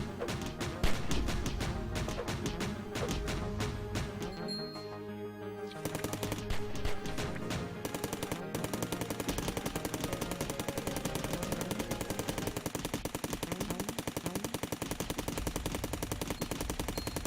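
Rapid assault rifle fire from the PC game Cally's Trials, dense automatic bursts that rattle on almost without pause, loud and close, with a brief lull before the firing resumes steadily.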